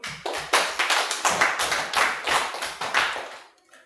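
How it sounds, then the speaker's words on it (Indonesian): Classroom applause from a small group of students, a quick burst of overlapping hand claps at close range that keeps a fairly even pace before tapering off and stopping, with no talking. "Kita berikan aplaus dulu"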